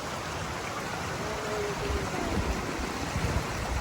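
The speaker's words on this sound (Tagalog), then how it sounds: "Tingnan nyo yung rumaragas ang tubig." Rushing river water at Korankei river in Japan during autumn, a steady broadband roar that swells slightly toward the end, with no voices over it.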